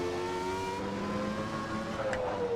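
A Renault Espace F1 people carrier with an 800-horsepower naturally aspirated engine accelerates hard on track, its high, steady engine note rising and sustained without a break, loud and continuous.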